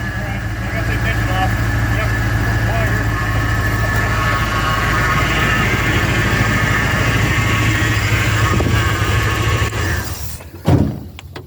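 An old Chevrolet K20 truck, left in the woods for over ten years, runs with a steady rough idle that holds for most of the stretch before cutting out abruptly near the end, with people talking over it.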